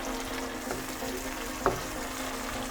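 Egg and chickpea curry gravy fries in a pan with a steady, soft sizzle throughout, plus one brief clink near the middle and no talking.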